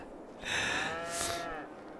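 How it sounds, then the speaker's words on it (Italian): Cows mooing in a loud, drawn-out call with a second bellow overlapping, close by and with no talking. "Ci sono le mucche urlatrici qua."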